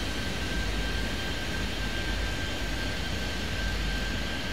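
A jet aircraft takes off in the airport control game Airport Madness 3D. Its engines give a steady, loud, broadband roar with no break, and a thin constant tone runs underneath.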